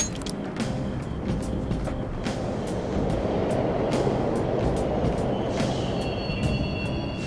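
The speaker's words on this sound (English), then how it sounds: "The trains are totally running!" Steady rumbling of a subway train running in the video game Persona 5 Royal, with rhythmic wheel clatter and a brief high squeal near the end, continuous and fairly loud.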